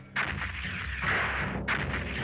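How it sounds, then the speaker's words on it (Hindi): Cannons fire from a Maratha army camp in a historical drama setting: three heavy, booming blasts in quick succession, each a loud, rolling report, with no talking. "मराठा पड़ाव में तोपें चलाई जा रही हैं"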